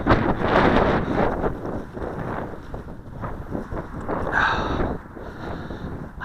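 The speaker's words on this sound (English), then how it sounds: "as you can see, it's pretty windy" Strong gusts batter an outdoor microphone on a windy day at a quadcopter flying field, a loud, continuous rumbling roar that swells and eases without letup.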